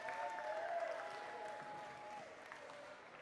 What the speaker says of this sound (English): Please join us in giving Cortland a well round of applause as we celebrate this significant accomplishment